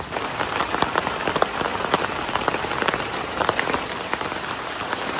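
Rain falls steadily onto a village pond with ducks, making a dense hiss scattered with sharper nearby drop splashes that lasts throughout, with no voices.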